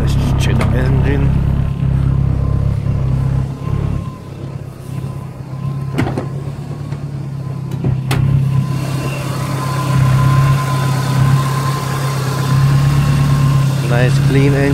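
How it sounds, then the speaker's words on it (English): A Nissan Silvia S14a with an aftermarket exhaust, induction kit and aftermarket manifold idles steadily with a low, loud engine hum, with a few brief knocks partway through. "Let's check the engine."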